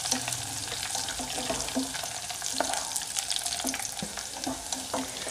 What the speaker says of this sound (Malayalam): ഇനി ഇതിലേക്ക് കുറച്ച് ഉള്ളിയും നട്സും മുന്തിരിയും ചേർത്തിട്ടാണ് ഇത് വറുത്തെടുക്കേണ്ടത്